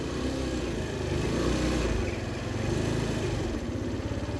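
A Baotian Comfort scooter engine runs steadily up close, its drone fluctuating slightly as it struggles to hold its revs over several seconds, with no voices.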